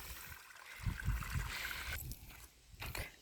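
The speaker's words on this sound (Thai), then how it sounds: "น้ำใส่มาตามท่อฝั่งนี้นะครับ น้ำไหลออกนะฮะแล้วก็ นี่ครับลงแปลงนา" Water flows out of a siphon pipe into a flooded rice field, a steady trickling and gurgling stream close by with a few louder splashy surges and no talk over it.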